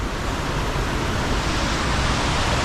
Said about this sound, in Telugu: వాటర్ ఫాల్ సౌండ్ అయితే నాకు క్లియర్గా అనిపిస్తుంది